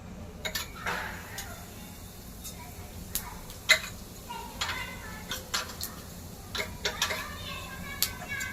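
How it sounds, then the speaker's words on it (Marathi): Cumin seeds crackle in a spoonful of hot oil, tempering for Konkani-style stuffed brinjal, with scattered sharp pops and ticks over a quiet low hum. "जिऱ्याला तर मस्त फोडणी होते"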